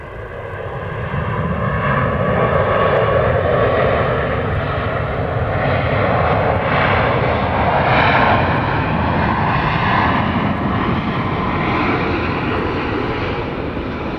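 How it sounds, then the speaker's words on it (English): A Boeing 737 MAX 8 jet lands at Dallas Love Field, its reverse thrust building into a loud, sustained roar that holds steady for several seconds. "Those MAX 8s make more noise on the reverse thrust than the other 737s."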